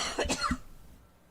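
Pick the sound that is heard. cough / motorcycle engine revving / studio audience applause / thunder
cough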